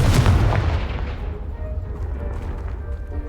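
In the Hogwarts Legacy video game, a Confringo spell blasts apart a pile blocking a stairwell. The deep, booming explosion is loud at the start, then its rumble slowly fades over a few seconds.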